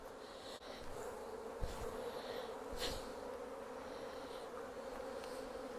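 A steady, dense buzz of many honey bees shaken off a hive super fills the air, constant and close, with a few brief knocks and rustles in the background.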